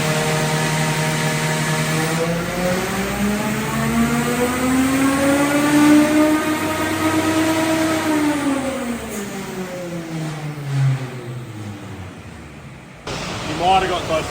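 A car engine revs steadily upward on a dyno and holds near its peak before easing off. The sound is loud and continuous with a rising then falling whine, and a voice speaks briefly near the end.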